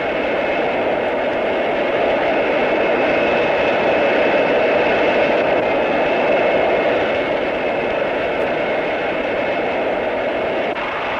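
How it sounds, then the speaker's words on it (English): A loud, steady engine roar with a high whine running throughout as an 80-knot hydrofoil boat passes close at constant speed, no voices. "used on very high-speed hydrofoil boats, such as this 80-knot boat"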